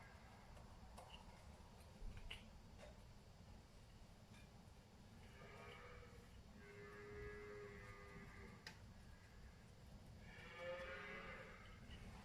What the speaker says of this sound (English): Them cows, they drive me mad out there. Fucking moo all day long.